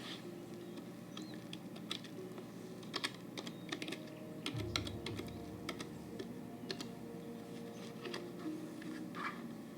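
Fingers typing on a computer keyboard, a steady run of soft, fairly close key clicks with irregular rhythm and a few louder taps, continuing for about ten seconds with no talking.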